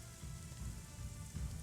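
Rain falling in the video game Conan Exiles, a soft steady patter on a surface, quiet and continuous with no talk.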